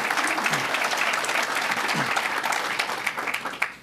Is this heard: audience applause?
yes